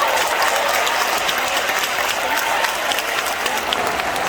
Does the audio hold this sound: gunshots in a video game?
no